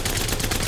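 Havoc energy rifle in Apex Legends firing a rapid burst at a wall, heard as a dense, loud stream of gunshots lasting under a second with no voices.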